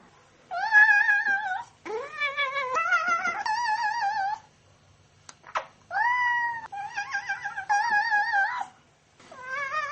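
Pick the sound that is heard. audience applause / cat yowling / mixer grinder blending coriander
cat yowling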